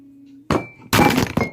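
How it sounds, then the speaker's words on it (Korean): A camera falls and strikes the floor with a sharp clatter, then a second, louder crash and rattling bounce within about a second, close and sudden after near silence. "카메라가 떨어졌었어"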